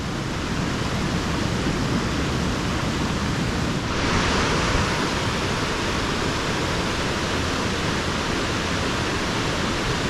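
River water rushes near a waterfall in a steady, dense roar that fills the whole clip, close and loud, growing slightly brighter partway through, with no voices.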